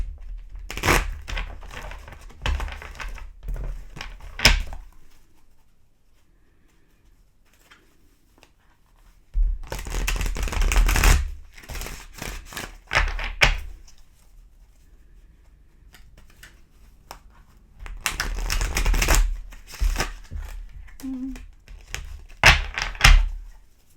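Bursts of crisp tarot card riffling and slapping come in three separate rounds, each lasting a few seconds, with quiet pauses between them.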